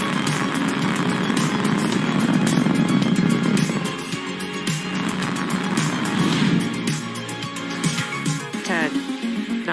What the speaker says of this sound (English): Falcon 9 has cleared the tower.